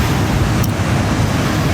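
Waves at Santolo beach form a loud, steady roar of surf mixed with strong wind buffeting the microphone, continuous throughout.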